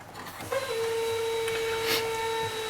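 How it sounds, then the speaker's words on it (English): Air suspension airbags lowering on a 2007 Fleetwood Bounder 38S motorhome give a steady, close hiss of escaping air with a thin, constant high whine running through it. "What's happening is my airbags are coming down."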